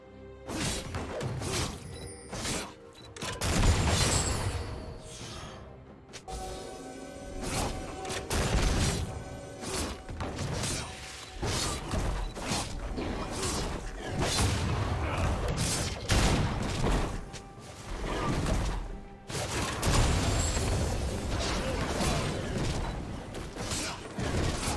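League of Legends match audio with crashing, smashing impacts and mechanical creaks as a turret is destroyed, dense bursts of loud combat effects and whooshes repeating throughout.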